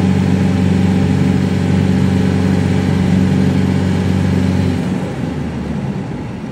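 A Dodge Dakota fitted with a TDI ALH turbodiesel engine and NSG370 transmission, driving under light throttle, giving a steady, loud low engine drone from inside the cab that eases off slightly near the end.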